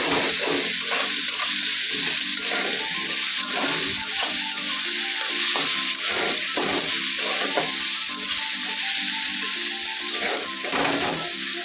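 Onions frying in a pan make a steady close sizzle, broken by a repeated rhythmic scraping pulse of stirring, with no voices.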